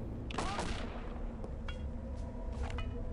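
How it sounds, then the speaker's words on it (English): Minigun fire in Return to Castle Wolfenstein sounds as a fairly quiet, rapid rattle of shots over a low rumbling game background, with brief crackling bursts spread throughout. "Minigun to the face, and they're still shooting at you."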